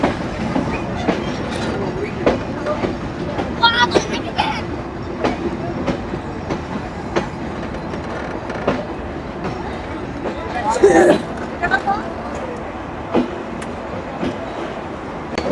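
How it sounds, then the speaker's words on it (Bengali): Rupsha Express passenger train pulling into the small Mobarakganj railway station in Jhenaidah district, Bangladesh, with steady rumbling and repeated clacking wheel beats, a brief squeal near the end, and voices present. "নির্ধারিত সময় হতে 30 মিনিট বিলম্বে রূপসা এক্সপ্রেস ট্রেনটি প্রবেশ করছে ঝিনাইদহ জেলার মোবারকগঞ্জ রেলওয়ে স্টেশনে"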